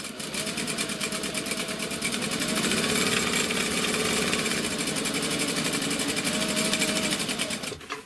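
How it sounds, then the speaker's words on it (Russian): A domestic sewing machine runs steadily for about eight seconds, stitching a double line of thin fabric with a fast, even mechanical clatter at constant loudness, close and unbroken, with no voices. "Сейчас попробую прострочить, продублировать, чтобы быть уверенным,"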